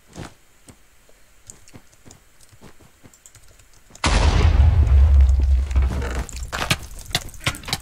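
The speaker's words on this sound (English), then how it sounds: "Explosion." A loud, deep explosion booms in Minecraft Bedwars and rumbles for about two seconds. It comes after a stretch of rapid computer keyboard typing, and the clicking carries on as the blast fades.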